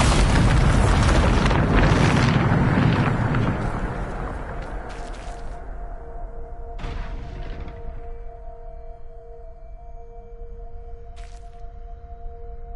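The Bombarda explosion spell in Hogwarts Legacy on PS5 goes off as a loud, booming blast. Its rumble fades over several seconds into a lingering tonal hum, with a couple of sharp cracks following.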